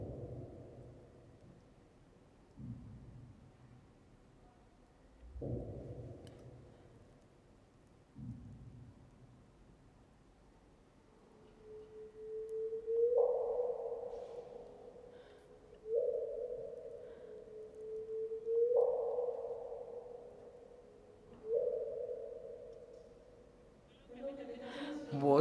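Gravitational-wave chirp from two black holes colliding 1.3 billion years ago, rendered as sound: low rumbling tones first, then repeated rising higher-pitched chirps sweeping upward, each ending abruptly, fairly faint.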